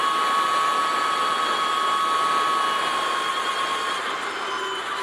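An Energica Eva electric motorcycle on the move, giving a steady high whine with a sustained tonal hum over rushing wind. The sound stays loud and even, easing slightly toward the end, and no one speaks.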